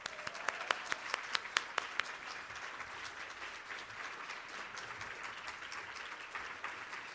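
An audience applauds to welcome a speaker to the stage, a steady wash of clapping with a few crisp, close claps standing out early and the sound holding evenly to the end.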